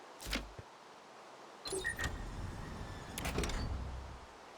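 Key-card-operated doors slide open inside a Minecraft SCP containment facility: a brief soft thump, then two mechanical whooshing bursts with a whirring tone, moderately loud against a quiet background.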